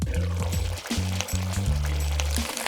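Hot water pours into a pot of Northeast Chinese-style braised fish already simmering with soy sauce, cooking wine and vinegar. A steady, close gurgling fill runs under a sustained tonal hum.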